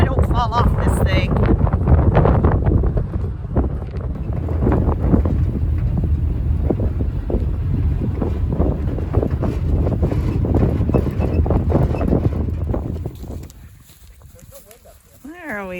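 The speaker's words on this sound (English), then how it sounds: "It'd be more manageable without that wind blowing so hard." Strong wind batters the microphone outdoors in loud, gusty roaring bursts that drop away near the end, with a voice briefly audible at the start and close.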